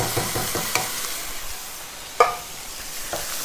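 Chopped San Marzano tomatoes drop into a hot pan and give a soft sizzling hiss, with a few light clinks and one sharper knock. The sound stays fairly quiet and there is no speech.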